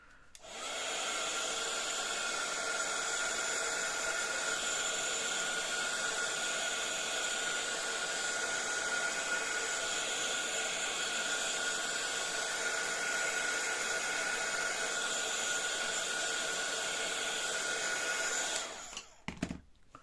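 Hair dryer blowing steadily on inkjet-printed tissue paper, a loud continuous whooshing hum held for most of the time before cutting off abruptly near the end, close by with no speech.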